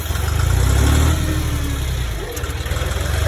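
A vehicle engine runs steadily after a downshift, a loud low rumble that eases slightly partway through, heard up close while driving through wind-damaged woods.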